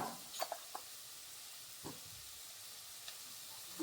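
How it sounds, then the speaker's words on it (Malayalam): Spices sautéing in a pan for a mackerel fish curry give a soft, steady sizzle, broken by a few faint clicks and scrapes of stirring, with no talking. "ഇതാ ഇതിങ്ങനെ ഒന്ന് വഴറ്റിയെടുക്കുന്നു"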